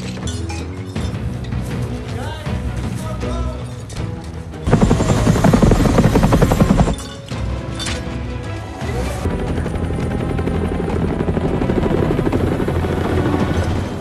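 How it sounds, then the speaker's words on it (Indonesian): A helicopter in the film Uncharted roars loudly and continuously, its rotor noise dense and close, with heavy action sounds mixed in. "kelompok Braddock mulai mengeluarkan kedua kapal itu pakai helikopter."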